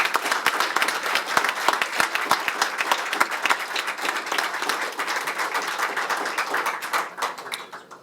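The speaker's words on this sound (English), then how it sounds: "please join me in a warm round of applause for Congressman Ed Pease" A banquet-hall audience at a leadership award ceremony gives a warm round of applause for Congressman Ed Pease, dense and sustained clapping that holds steady and then tapers off near the end.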